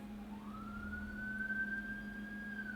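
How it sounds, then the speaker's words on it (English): Ambulance siren in the zoo-building game Planet Zoo, a single rising wail that climbs and holds steady over a constant low hum, moderately loud and heard alone without talk. "And more sirens, goody. More ambulance."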